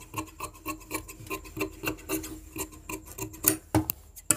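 Scissors cut through fabric around a kurti neckline with a half-inch margin, giving a steady series of short raspy snips and rubs, close and fairly quiet, with no talking.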